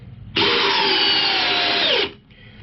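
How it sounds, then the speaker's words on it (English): A Dewalt 12V Xtreme 3/8 drill/driver on high speed drives a Phillips screw, one steady loud whine lasting under two seconds that dips in pitch as the screw seats, then stops abruptly. "We are on high speed, so it's going to drive it in as fast as it's going to be able to."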